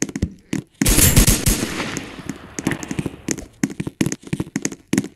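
Rapid bursts of gunfire in the Roblox video game, a dense automatic volley followed by sharp, spaced single shots, loud and close with no talking.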